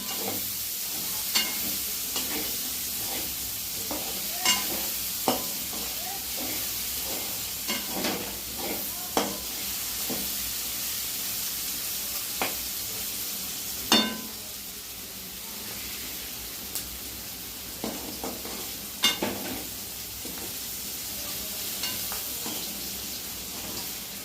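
Okra (bhindi) fries with onion in a pan over a full gas flame, a steady soft sizzle broken by intermittent scrapes and taps as it is stirred, close by, with no talking.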